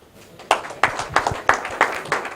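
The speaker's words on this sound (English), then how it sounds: "Please, a round of applause for top feed." At a poultry show seminar in Nigeria, the audience claps in a steady rhythm, a series of sharp, evenly spaced strikes about three per second, starting after a quiet half-second with faint murmuring underneath.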